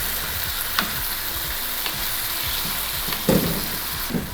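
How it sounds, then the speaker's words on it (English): Tomatoes being mashed in a pot for a puttanesca-style tomato and basil pasta sauce, with a steady sizzle under intermittent soft squishing and scraping knocks, close and moderately loud, no talking. "you're gonna add your tomatoes to the pot. And you're just gonna smush them"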